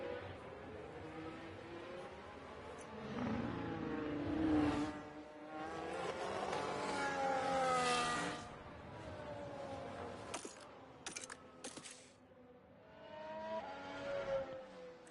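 F1 cars pull out of the pit lane at Imola in the F1 Manager 24 racing game, with high engine whines rising and falling in pitch as several cars accelerate past one after another, moderately close.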